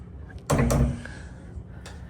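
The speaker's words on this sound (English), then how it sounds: "very easy to close doors." A hotel room door in the Hilton Historic Plaza in Santa Fe swings shut with a single short thud and latch click, close and fairly loud in a quiet room, followed by faint softer knocks.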